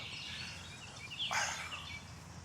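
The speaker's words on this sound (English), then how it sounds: "Get to hear the birds, man." In an upland deciduous forest, one brief bird call rises above a soft, steady background hiss and then fades. The call sounds faint and some distance away.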